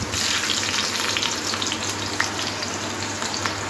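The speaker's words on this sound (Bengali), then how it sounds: "আলুগুলো একটু লাল লাল করে ভেজে নেব।" Potatoes for an egg and potato vorta fry in oil in a pan, a loud, dense, unbroken crackling sizzle heard close up with nobody speaking.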